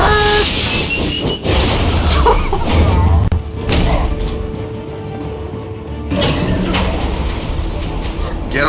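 A train rumbles through a scene in Batman: The Telltale Series, a loud continuous roll of wheels and clatter with thuds and a squealing lull midway, while voices talk over it.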